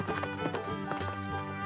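Galloping horse hooves from a cowboy cartoon, steady clip-clop rhythm close and fairly loud over a bed of background music.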